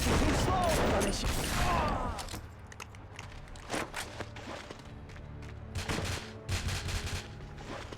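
Gunfire in the PS3 game Folklore: a dense burst of shots up front, then scattered sharp reports and mechanical clicks through the rest of the clip, moderately loud against low game ambience.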